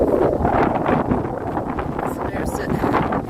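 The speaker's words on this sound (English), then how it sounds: "it is extremely windy" Strong gusts of wind rumble and buffet the microphone continuously at a graveyard, a loud, rough roar with faint rustling mixed in.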